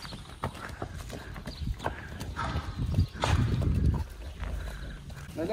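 Hooves of a cold-blooded draft horse clip-clop steadily on a hard surface, a rhythmic walking pace close by, with faint voices and outdoor background noise.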